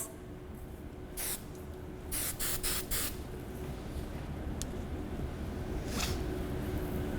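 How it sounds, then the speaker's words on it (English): Hairspray hisses from a can onto curled hair being set into a soft bridal bun, in several short and longer bursts of spray with quiet gaps, close and clear, with no talking. "As I'm moving the hair where I want it to stay, I can spray it so that it doesn't move anywhere else."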